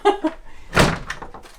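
A house's back door bangs shut or open once, a loud wooden thunk near the middle, with brief voice sounds just before it and soft rustling afterward.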